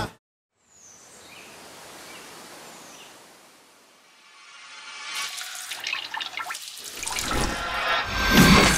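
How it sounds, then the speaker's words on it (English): Water from a tap fills a sink for washing dishes, starting as a faint trickle and growing into a louder rushing splash over the last few seconds, with no voices. "By filling up the sink when we wash our dishes"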